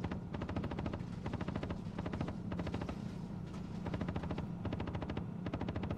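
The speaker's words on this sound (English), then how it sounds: "But look at them all, they're just stood there shooting." Rapid automatic gunfire from NPCs in the Star Citizen game, dense repeating bursts over a steady low rumble, continuous and fairly distant-sounding throughout.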